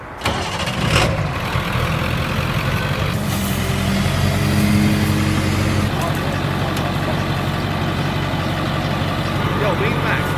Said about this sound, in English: Start the tow truck.